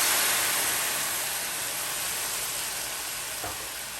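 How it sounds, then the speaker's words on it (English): Red wine hits a hot frying pan of carrots and celery, giving a loud, steady hiss and sizzle that slowly fades, with one brief clink near the end. "I'm just gonna deglaze the pan with some red wine that I have"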